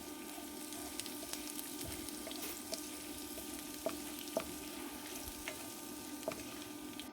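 Ground spices, coriander powder, garam masala, pav bhaji masala and roasted cumin powder, frying in hot oil, giving a steady soft sizzle with occasional light scraping clicks from stirring.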